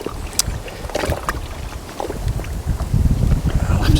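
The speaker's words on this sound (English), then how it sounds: "Oh, that's windy, I just cannot." Gusty wind buffets the microphone at a riverside fishing spot, rough low rumbling swelling and easing across a few seconds, with light knocks and rustles over it.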